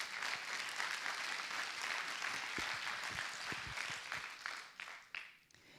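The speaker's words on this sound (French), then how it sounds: "On peut vous applaudir, je crois." Audience applause fills a conference room at the close of a talk on decarbonisation strategy, a steady dense patter of clapping that thins out and fades toward the end.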